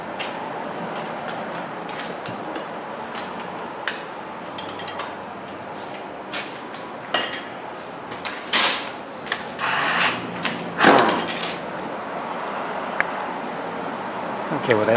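A wrench tightens a bolt on a rear sway bar link of a 2006-2011 Toyota Camry, giving scattered metallic ratcheting clicks and short scraping bursts, close and moderately loud, over a quiet garage background.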